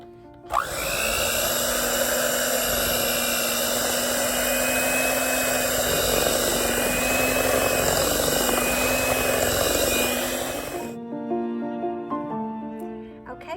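An electric mixer whirs through tea cake dough for Southern Alabama tea cakes, a loud, steady motor drone with a constant pitch that runs for about ten seconds, then stops abruptly, leaving quieter clatter at the end.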